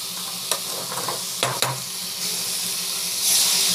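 Vegetables sautéing in a hot pan, with a steady close sizzle broken by a few sharp spatula scrapes and taps. The hiss swells louder near the end, and no one speaks.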